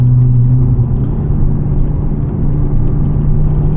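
Aftermarket exhaust and headers on a 2006 Porsche Cayman S with a six-speed manual, a cheaper Texas-made setup, give a steady, loud low engine drone and rumble throughout, with no talk over it.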